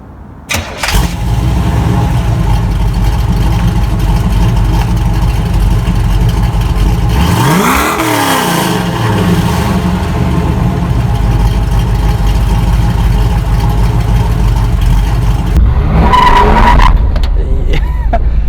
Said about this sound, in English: those rear tires are just begging for help in the back, because this engine is obviously, it's worked, so it is making really, really good power